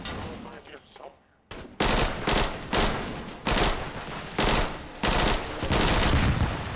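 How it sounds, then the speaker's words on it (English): Gunfire from bots shooting each other in the video game H3VR: loud bursts of rapid shots repeating roughly every half second to second after a brief quiet, with faint talk early on. "They're shooting. I think they're all shooting each other."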